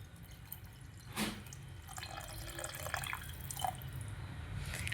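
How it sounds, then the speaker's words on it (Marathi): Water added to sautéed ambadi (roselle) leaf vegetable in a pan, a faint, low pouring trickle with a few soft drips over quiet kitchen background. "मी ह्याच्यात थोडंसं हे पाणी घालून घेते."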